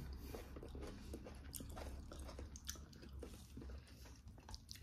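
Close, wet chewing and biting of rice eaten with pumpkin greens cooked with dried chili, cumin and garlic, a steady run of soft crunches and squishy mouth sounds with no talking.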